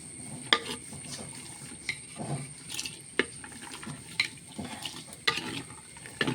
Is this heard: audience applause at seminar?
no